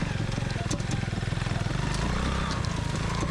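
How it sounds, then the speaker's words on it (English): An old police motorcycle, freshly restored after sinking in a swamp, runs close by with a rapid, even, throbbing engine beat that holds steady throughout. "The engine fired right up"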